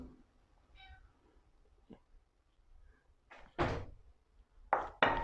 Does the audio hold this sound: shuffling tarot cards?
no